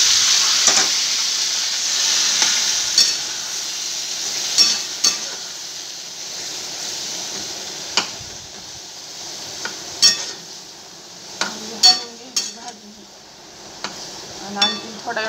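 Vegetables sizzling and frying in a pan with garlic, salt and turmeric, with steady hiss and occasional clinks of a spoon stirring; faint voice in the background.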